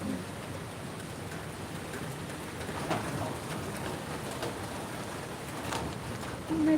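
Rain falls steadily as a soft, even hiss and patter outdoors, with a bird cooing faintly in the background.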